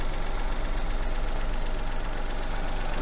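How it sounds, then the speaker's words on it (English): A car engine runs at a steady idle in a mechanic's workshop while misfires are being diagnosed, giving a continuous, even, close-up mechanical hum with no talking. "Let's start the engine and see if we can pick anything up."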